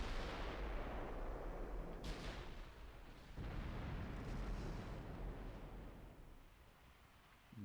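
Secondary guns on warships in Ultimate Admiral Dreadnoughts firing a few deep, booming shots, with sharp blasts near two and three and a half seconds over a low rumbling backdrop.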